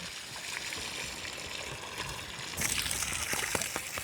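Water running into a pig pen, a steady broadband rush that grows louder and splashier partway through, with faint voices in the background.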